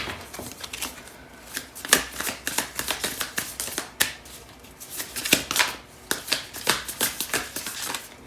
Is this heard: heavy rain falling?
no